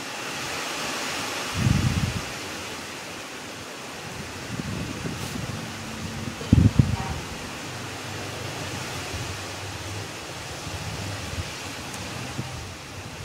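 Gusty wind with rain during Cyclone Remal, a steady broadband roar of rain and wind with a few louder gust bursts, fairly loud throughout and with no talk.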